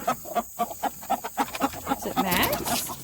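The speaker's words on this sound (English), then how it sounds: "He is a golden laced Wyandotte, and he's pretty." A golden laced Wyandotte rooster clucks in a steady run of short, close calls on a farm, then gives a louder, drawn-out call near the end.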